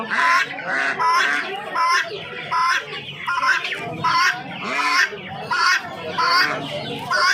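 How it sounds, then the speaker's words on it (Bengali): Loud, dense clucking and honking from many Chinese fowl together at a hen market in Uluberia, continuous and close, with voices mixed into the din. "প্রচুর চীনা মুরগি রয়েছে দেখতে পাচ্ছেন"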